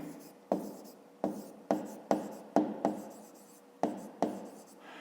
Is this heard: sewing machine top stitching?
no